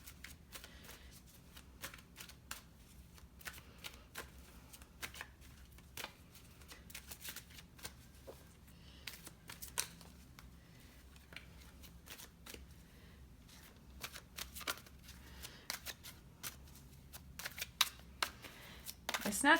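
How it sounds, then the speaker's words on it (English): Angel Answers oracle cards are shuffled by hand in a quiet room, giving a long stretch of soft, rapid riffling and flicking clicks that grow a little louder toward the end. "It's not the easiest to shuffle with you right here."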